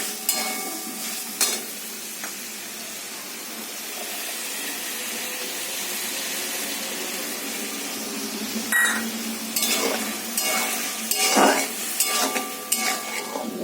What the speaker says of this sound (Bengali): যত কষাবে তত টেস্ট হবে পটল চিংড়িটা